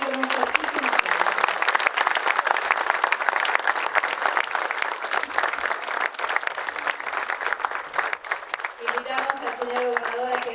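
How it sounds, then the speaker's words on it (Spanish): Loud, sustained applause from a large crowd at a school's official 150th anniversary ceremony fills the whole stretch, with voices mixed in throughout. "Nos celebramos también con un fortísimo aplauso."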